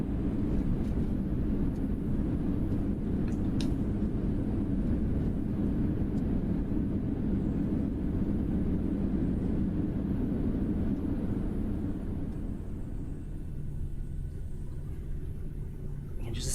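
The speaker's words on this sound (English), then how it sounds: "And just the sound as well of the airplane as it idles the throttle and continues down the runway." A Tunisair Boeing 737-600 airliner rolls down the runway after touchdown with its throttle idling. A steady, heavy low rumble holds throughout and eases slightly toward the end.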